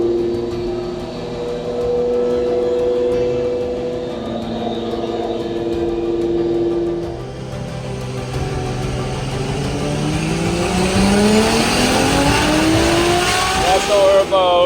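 Nissan S14 engine, boosted to around 930 horsepower, revving hard on a dyno, a loud sustained roar that climbs steadily in pitch through the pull with a rising whine on top.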